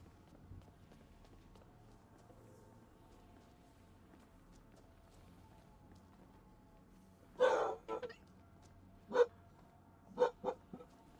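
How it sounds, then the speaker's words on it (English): Dogs bark off-screen in a real room, outside a Skyrim game session: a quiet hum, then a cluster of several muffled barks, followed by a few more spaced yaps near the end. "Can you hear the dogs?"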